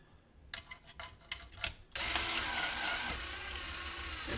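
Cordless drill driving the bolts on a hot tub pump during a seal replacement: a few short whirring bursts, then a sustained loud drill run for the rest of the clip, close by.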